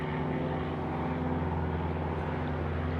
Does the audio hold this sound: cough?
no